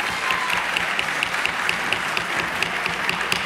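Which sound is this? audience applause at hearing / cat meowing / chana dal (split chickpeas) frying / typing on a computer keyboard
audience applause at hearing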